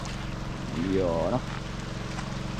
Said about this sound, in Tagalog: Grabing ulan, tuloy.